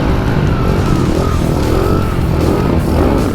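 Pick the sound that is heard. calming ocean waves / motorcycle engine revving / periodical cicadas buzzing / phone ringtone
motorcycle engine revving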